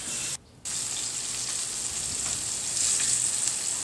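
Milkfish dusted in a little flour frying in a pan, a steady broadband sizzle throughout with a brief dip near the start, close and fairly loud, no talking.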